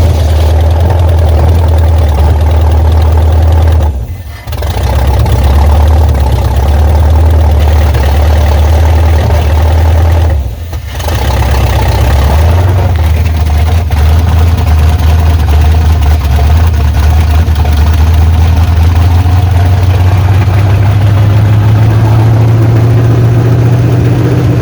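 A 350 Vortec V8 in a 1986 Chevrolet Silverado idles on its first start after a cam swap, fed by a square-bore carburetor on a spread-bore intake that may be leaking air. The idle is loud, steady and close, dips briefly twice, then climbs slightly.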